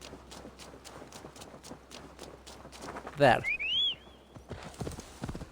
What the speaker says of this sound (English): Where is my horse?